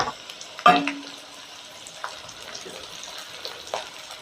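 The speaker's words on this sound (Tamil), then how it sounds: "கொஞ்சம் நேரம் இதை வதக்கிக்கலாம்." Garlic, green chili and curry leaves sauté in a pan for a Sankara fish curry, giving a faint, steady sizzle broken by a few sharp clinks of stirring.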